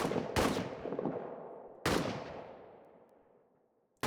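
Two heavy gunshots or blasts in the trench warfare game All Quiet in the Trenches, each loud and followed by a long, fading rumble, with a third starting at the very end.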